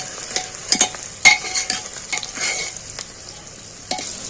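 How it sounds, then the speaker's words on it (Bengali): Sliced onions for a mutton curry are stirred and fried in a pan, giving sharp scraping clinks from the spoon over a light sizzle, close and uneven in rhythm. "একে এইভাবে নেড়ে নেড়ে ভাজা করতে হবে"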